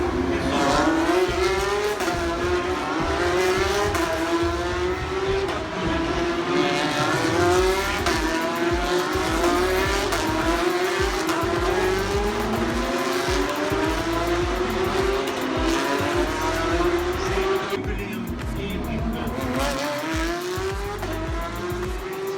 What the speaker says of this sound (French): c'était la qualification de la Porsche Super Cup, le bruit il était beaucoup plus fort que la Formule 1